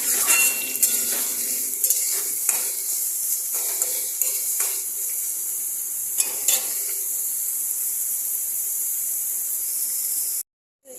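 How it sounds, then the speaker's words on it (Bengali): Carrot, capsicum and potato fried in a pan with a spoon stirring, bringing repeated metallic scrapes and clinks over a continuous sizzle before it cuts off near the end. "তার সাথে এখানে গাজর, ক্যাপসিকাম, আলু। এবার এটা ভালো করে আমি ভাজবো।"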